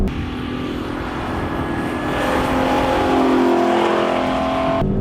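A Lexus LC500 Convertible's engine roars steadily on a race track, a loud, sustained drone that swells slightly as the car drives through a corner under managed throttle, with no talk over it.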